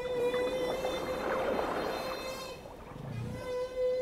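Whales singing underwater in Alaskan waters, picked up by a hydrophone: a loud, sustained tonal call that holds steady, then bends and pulses before returning, with no talking over it.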